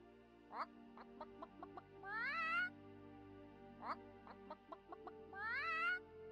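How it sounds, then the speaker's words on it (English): A chicken in World of Warcraft clucks in short sharp bursts and drawn-out rising squawks, repeating in two matching rounds over a steady humming game-music background, with no talking. "Waiting for the chicken to look at you."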